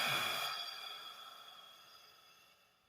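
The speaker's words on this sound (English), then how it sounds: "And breathing out through your mouth." A single long breath exhaled through the mouth, strongest at the start and tapering off gradually over a few seconds, soft and close with no talking.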